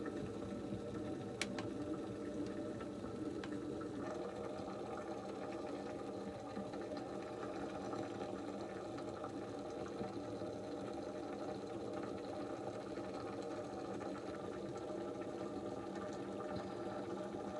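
A facial steamer from BİM runs with a steady, fairly faint mechanical hum and a soft whirring drone that holds unbroken throughout.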